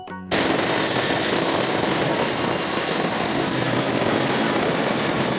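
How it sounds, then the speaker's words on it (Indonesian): Toy helicopter running steadily and loudly after a brief quiet start, a dense continuous whirring buzz with a high steady whine, holding unchanged for several seconds with no talking. "ini ada helikopter"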